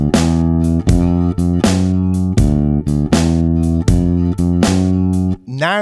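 A bass line walks through a bluesy turnaround: steady, evenly spaced plucked notes ringing low and full, ending with a quick sliding flourish.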